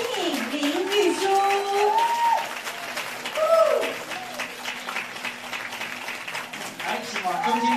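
Audience applause at a film premiere press event welcoming four actresses onto the stage, steady crowd clapping under a host's amplified voice speaking over it throughout.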